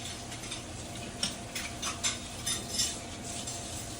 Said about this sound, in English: And I'm just taking my time, adding it in, making sure I'm whisking